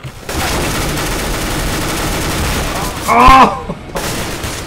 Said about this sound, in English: I fire so many bullets!